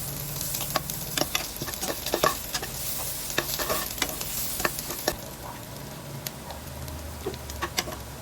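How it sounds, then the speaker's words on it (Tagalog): Sautéed garlic and onion sizzle steadily in a pan while being stirred, with scattered clinks and scrapes of a utensil over the continuous frying hiss. "Pinagisa na natin yung bawas at sibuyas"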